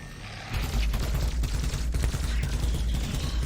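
Gunfire from a PC video game trailer: a dense, rapid rattle of shots and mechanical clatter starting abruptly and continuing steadily, loud and close.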